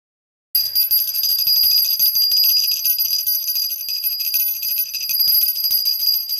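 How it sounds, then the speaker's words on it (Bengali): A small hand bell, a tiny keepsake bell bought at Tarakeswar, rings continuously and close after a brief silence, bright and steady for about six seconds. "এই পুচকি ঘন্টাটা বাজিয়ে রথ বার করবো"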